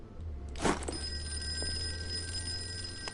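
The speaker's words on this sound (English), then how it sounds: "I might as well answer the phone" A telephone rings once in a quiet room, a short bright bell tone over a low steady hum.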